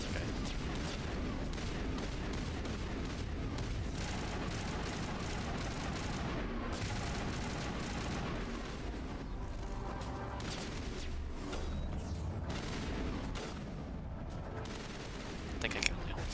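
Sustained gunfire from a firefight in Mass Effect 1 (Legendary Edition), a dense continuous barrage of shots and impacts at steady loudness, with no talk over it.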